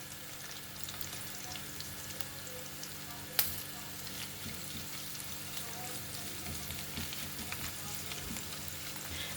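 Ginger garlic paste frying in a pan sends up a dense, steady crackling sizzle, close and fairly quiet, with one sharp clink partway through and no talking.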